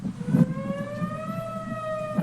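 Civil defense storm siren sounding, a sustained wailing tone that slowly rises in pitch, heard at moderate distance with a brief thump near the start.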